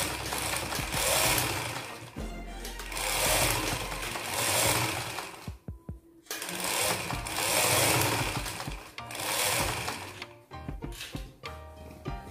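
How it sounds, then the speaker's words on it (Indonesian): Sewing machine running in bursts of stitching as skirt lining is sewn to the waistband of an A-line skirt, several close runs of a few seconds each separated by short pauses, with no talk. "kita jahit dah pelan-pelan supaya dia tepat ada di bawah ban pinggangnya"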